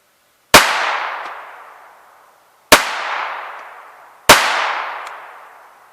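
Three sharp, loud rimfire gunshots ring out from a Walther P22 pistol firing Winchester bulk .22 ammunition, each followed by a long echoing decay, spaced about two seconds apart outdoors.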